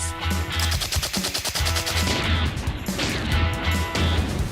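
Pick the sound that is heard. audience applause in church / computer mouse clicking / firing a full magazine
firing a full magazine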